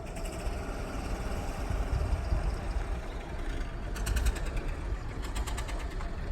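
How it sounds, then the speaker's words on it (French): Car engine with a fault, a steady close mechanical whirring and rapid ticking knock running continuously at an even level, with no talking over it. "Voilà, défaut moteur."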